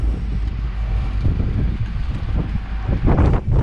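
Strong wind buffeting a microphone outdoors at a building site where a silo wall is being built: a loud, continuous low roar with gusty surges, heaviest near the end.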